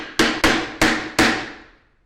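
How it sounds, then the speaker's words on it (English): A 12-ounce hammer drives a nail into wood with four sharp, ringing strikes, the second coming quickly after the first and the rest spaced wider, each blow loud and close and the last one decaying slowly. "So I'm using a 12-ounce hammer, so I actually have to apply some force."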